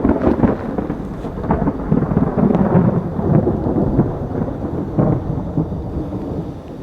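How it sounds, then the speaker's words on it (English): Deep rolling thunder from an approaching storm rumbles continuously and loudly, with rain pattering underneath throughout. "We have a storm coming, folks."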